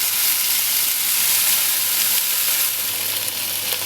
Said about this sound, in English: Now while the chicken is cooking, I'm just going to toss in my pumpkin